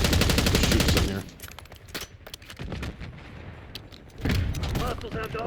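Rapid gunfire bursts from a shooter video game, Call of Duty: Black Ops, fitted with a reactive tracer weapon pack, loud at the start, dropping away, then returning after a pause, with game voice callouts mixed in.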